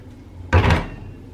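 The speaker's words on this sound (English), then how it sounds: "these doors that we skipped over are the closet doors" Closet doors in a Disney's Polynesian Villas DVC resort room open in one short, close clunk with a brief rattle, heard alone.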